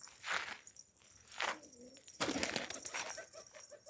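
Pigeons coo softly in a coop, a few low calls spaced apart over faint rustling and light movement, fairly quiet and close.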